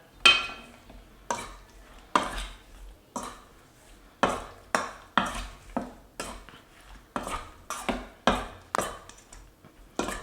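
Cajun Black seasoning stirred generously into shrimp and salmon, a spoon or utensil clinking and scraping against the dish in a steady series of close, sharp knocks and scrapes with no talking.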